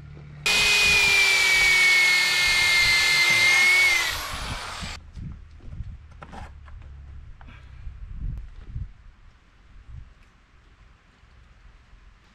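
Power tool driving bolts into a Scania truck chassis platform: a loud, steady whirring drive of about three and a half seconds, then quieter scattered clanks and knocks of work around the frame.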